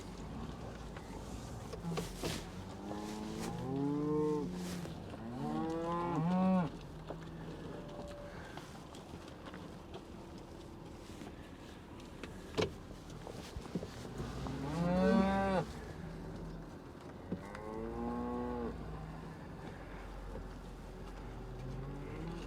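Cattle mooing on a farm before a winter storm, several drawn-out moos from more than one animal at moderate distance, spread across the scene with quieter gaps and occasional knocks between calls.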